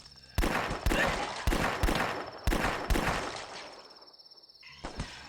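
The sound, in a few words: revolver gunshots in a video game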